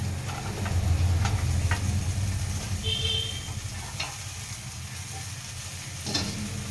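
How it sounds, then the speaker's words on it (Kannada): Ingredients for kurma sizzle and fry in a hot pan, a steady close crackle and hiss with occasional stirring scrapes and light utensil taps, loudest early and easing slightly later, no talking. "ಚೆನ್ನಾಗಿ ಫ್ರೈ ಮಾಡ್ಕೊಳ್ಳಿ ಎಲ್ಲ."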